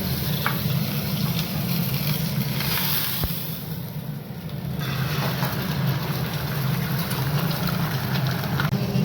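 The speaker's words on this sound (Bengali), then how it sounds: "পাতাটা ভেজে এখন নিম বেগুনটা একটুখানি ভাজা হচ্ছে" Neem leaves and eggplant fry in a pan, a steady loud sizzle with a low rumbling hum running beneath it throughout and a single sharp click partway through.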